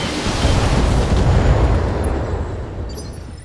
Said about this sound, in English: I want to get all my weapons involved in the shot, like my LRMs